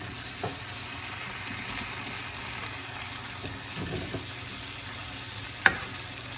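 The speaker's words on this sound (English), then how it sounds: "we're going to throw the peppers in there. See? Mix." Peppers stirred with a spoon in a hot pan give a faint, steady sizzle under soft scraping, with a single sharp clink of the spoon near the end.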